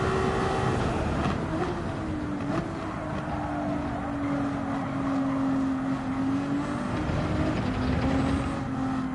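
A race car in Gran Turismo 7 drones loud and close with a sustained engine tone that rises, dips at gear shifts and climbs again, running continuously with no voices over it.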